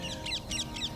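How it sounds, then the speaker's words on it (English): A parakeet heard flying past in a park, four quick harsh screeching calls in a rapid regular series, fairly faint and slightly distant over low background hum. "that was a parakeet you heard fly past"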